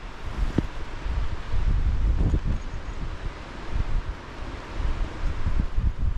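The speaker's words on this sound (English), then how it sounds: "The wind is getting absolutely ridiculous." Strong gusty wind battering a bivvy camp, a loud, continuous roar buffeting the microphone and swelling in gusts, with rustling and flapping close by and no voices.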